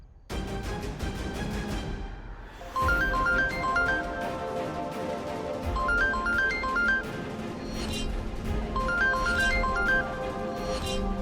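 A phone rings with a repeating melodic ringtone over background music, the short tune recurring about every three seconds at moderate level.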